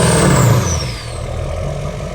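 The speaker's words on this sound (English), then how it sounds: "Just blow black smoke all over the clean truck." Lifted truck's engine revving hard while blowing black smoke, a loud close rumble with a rising whine early on that settles into a steady roar.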